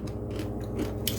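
Air-fried chickpeas, browned, crunch in a series of crisp, close, loud bursts, the last one the sharpest.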